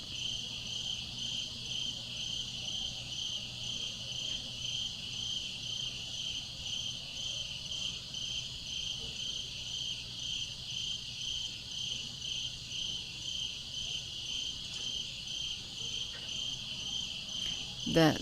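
Crickets chirp continuously in a steady high trill, a soft outdoor night chorus with no voices.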